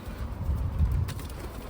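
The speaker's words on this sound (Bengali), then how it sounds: "এই কবুতর" A pigeon coos in a short, soft, low run outdoors on a damp, overcast day, with no voices over it.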